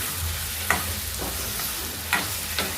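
Gongura chicken curry is stirred in a pan over a steady sizzle, with a few scraping strokes of the spoon standing out near and clear, and no talk.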